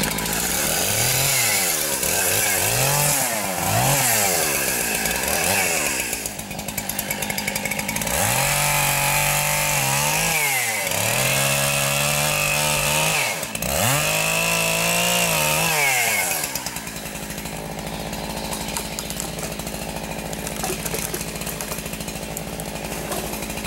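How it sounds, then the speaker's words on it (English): A chainsaw revs and bogs as it cuts down a small dead spruce snag, its loud engine rising and falling in repeated throttle swells before settling to a steady idle. "Just gonna cut down this dead spruce here, just a small snag."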